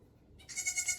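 A goat bleats several times in a farm stall setting, a fairly close, wavering cry that begins about halfway through after near silence and carries on to the end with no talk.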